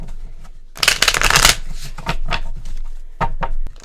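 Several quick bursts of riffling card shuffling, a long dense flurry followed by shorter crisp snaps, close and fairly loud.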